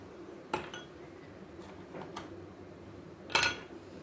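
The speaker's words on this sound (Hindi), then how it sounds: "आपने ग्लास में डालनी है बर्फ।" Ice cubes clink into a glass for a cold chocolate drink, in a few sharp, bright hits close by with quiet pauses between, the loudest clatter near the end.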